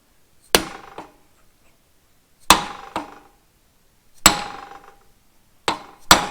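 Hammer blows drive a 1 3/8 inch socket to press a bearing into an Oliver Super 55 hydraulic pump. The sharp metallic strikes come in spaced pairs, each followed by a brief ring, with quiet between them.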